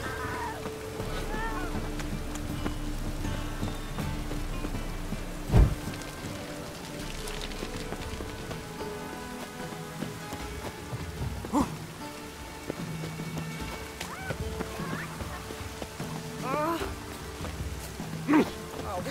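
Steady rain in The Witcher 3 patters throughout with a few sharp louder knocks, a continuous dense wash of drops.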